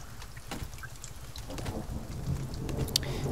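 Rain and thunder in the survival video game The Forest, a soft steady hiss of rainfall with a low rumbling swell building toward the end, fairly faint and alone.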